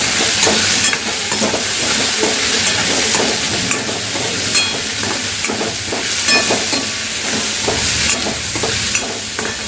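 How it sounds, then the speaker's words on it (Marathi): Cumin powder and turmeric being stirred in a hot pan, sizzling and frying steadily with repeated scraping strokes of the spoon, close and fairly loud throughout, with no talking. "ह्या मसाल्यांना मिक्स करून घेऊया"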